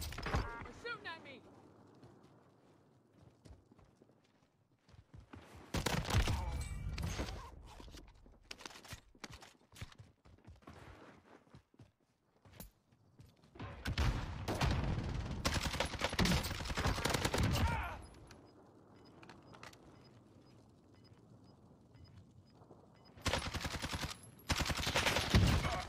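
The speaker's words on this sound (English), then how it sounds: "They're shooting at me." Gunfire in the video game Warzone comes in loud bursts of rapid shots separated by quieter stretches where voices and game ambience carry on.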